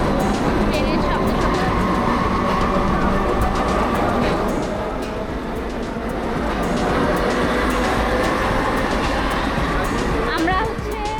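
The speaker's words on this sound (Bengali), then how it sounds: "ট্রেনের শব্দ" A Kolkata metro train runs with a loud, continuous rumble and rattle that dips briefly and then swells again, with voices murmuring underneath.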